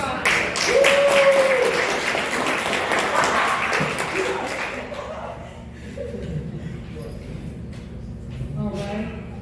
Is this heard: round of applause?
yes